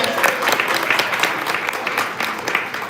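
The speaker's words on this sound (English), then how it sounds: "Give these wonderful folks a round of applause." A crowd claps steadily and fairly loud throughout, a dense patter of many hands with no voices standing out.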